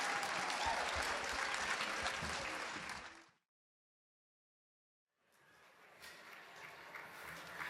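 Sustained audience applause, a dense crowd of clapping that fades out into a brief silence, then rises again to a steady, loud ovation.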